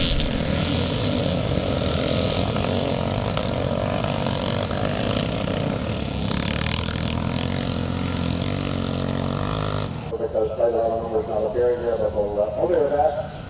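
Honda CR250 Elsinore scrambler motorcycle climbing a hill in a Grade C class classic charity scramble in Northern Ireland, its engine droning steadily at a distance under a commentator's continuous talk before easing off near the end.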